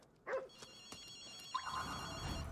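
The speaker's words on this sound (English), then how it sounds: "Hang on, there's a phone." A telephone rings in the video game Ghostwire: Tokyo, a faint, steady electronic ring under game ambience, with a dog's bark or yelp near the start.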